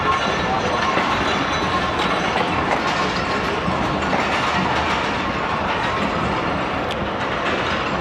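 The 13UP Awam Express rolls slowly into platform 5 at Lahore, a dense continuous rumble of wheels and carriages with faint clanks, steady and fairly loud, a voice talking over it.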